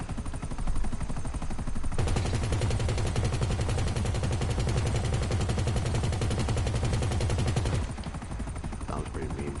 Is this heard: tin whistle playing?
no